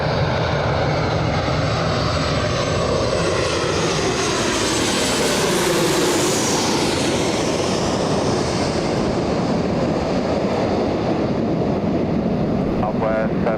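A plane at Los Angeles International Airport gives a loud, steady broadband jet roar that swells and sweeps in pitch midway as it passes close by, then carries on rumbling for the rest of the stretch.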